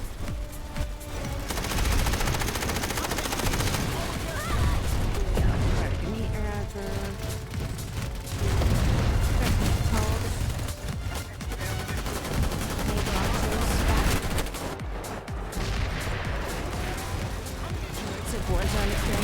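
Gunfire in the video game Rimworld, dense rapid bursts and shots layered under game audio and music, continuous and loud across the whole stretch.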